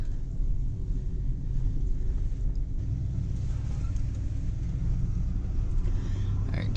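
A 1959 Oldsmobile Dynamic 88 four-door pulls away from a building, its engine a low, steady rumble close by, rising slightly as the car rolls off.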